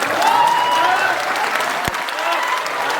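Audience clapping at a political speech, a sustained wash of applause with some voices mixed in and a single sharp knock partway through.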